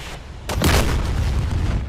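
A sudden deep boom as an aircraft is shot down in the combat flight game DCS World, a loud broadband blast that rolls into a sustained low rumble for over a second.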